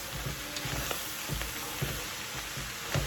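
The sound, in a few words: smoked herring frying in oil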